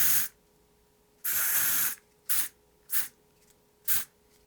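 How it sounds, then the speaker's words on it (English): Four bursts of aerosol bug spray, each a sharp broadband hiss: a short one, a longer sustained spray of nearly a second, then three quick puffs, loud and close with quiet pauses between. "Correct, that's bug spray."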